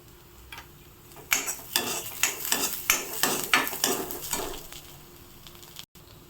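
Onions fry with chili powder and turmeric for baingan bharta, a series of about a dozen quick sharp clicks and scrapes from stirring in the pan over a soft sizzle, then quiet.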